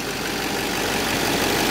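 A 2009 Chevrolet Silverado 3500HD's 6.6 liter Duramax turbo diesel V8 idles steadily at close range, a constant loud rumble with no talking over it.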